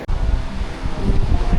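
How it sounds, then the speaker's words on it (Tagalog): Strong wind buffeting a microphone on the Taipei 101 skydeck, a loud low roar that swells and gusts without break, with no other sounds over it. "Lakas ang hangin dito."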